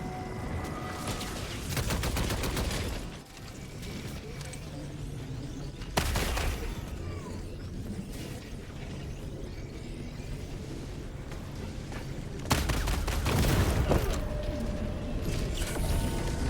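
Helldivers 2 combat against the Illuminate with a recoilless rifle and sentries: dense bursts of gunfire, a couple of sudden heavy blasts and mechanical clatter, loud and close, no speech.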